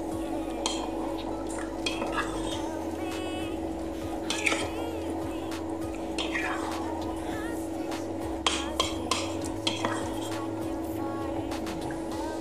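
Spiced chicken wings being stirred in a pot, with scraping, clattering utensil knocks and a faint background sizzle, while a person talks over the cooking.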